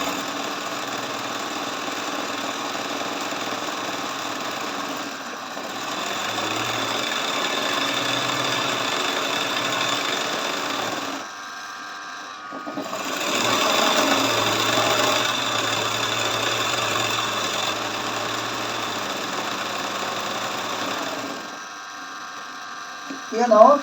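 A machine embroidery sewing machine stitches with a continuous mechanical hum and rapid rattle, pausing briefly near the middle before resuming at a slightly stronger level, ending with a short clunk.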